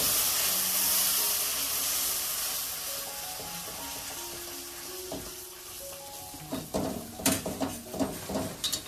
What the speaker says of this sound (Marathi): आज ते का सोडला, कारण ते वाफ येतो ना